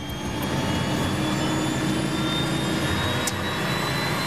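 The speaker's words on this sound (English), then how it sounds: "he records the sound of the engines from inside the cockpit" Jet engines heard from inside an airliner cockpit during a test flight, a loud, steady roar and whine with a high tonal hum that holds constant throughout, with no talking.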